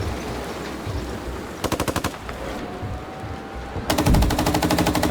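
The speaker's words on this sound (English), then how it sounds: "And here comes the artillery fire." Bursts of artillery and automatic gunfire in the PC tank game Gunner Heat during M1 Abrams gameplay: two rapid rattling volleys, the second louder and heavier with a deep boom, over low engine rumble.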